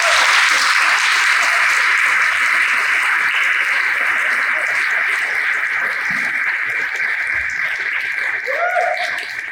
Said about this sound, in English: let's begin with a round of applause for the entering class of